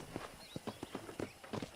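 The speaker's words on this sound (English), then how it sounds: "let's see if you can still ride a horse" Horse hooves clip-clop in an uneven walking rhythm while riding in the Red Dead Redemption video game, a series of fairly soft, close thuds with faint background ambience.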